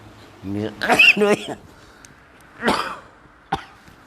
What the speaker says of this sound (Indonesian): Sampai batuk begitu saya.